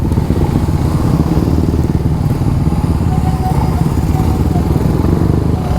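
A Suzuki Raider 150 motorcycle engine rumbles steadily up close, a loud continuous idle with a rough, throbbing low end.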